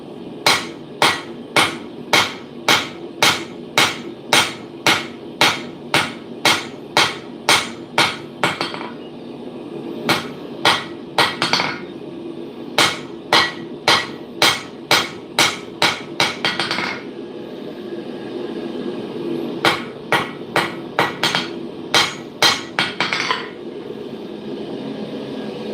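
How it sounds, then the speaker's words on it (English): A hammer flattens 1/4 inch W1 steel engraver stock at a forge: sharp, ringing blows fall in rapid, regular bursts of about a dozen strikes, separated by short pauses, close and loud. "So now I'm just prepping engraver stock. Just flattening out this 1/4 inch W1."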